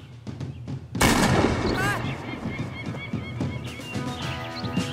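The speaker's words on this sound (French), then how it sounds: "Il a vraiment tiré sur un gosse, là." A single sharp gunshot in the video game As Dusk Falls, fired at a child, cracks loudly after a quiet moment and then rings out over a lingering noisy tail, with faint voices and other sounds after it.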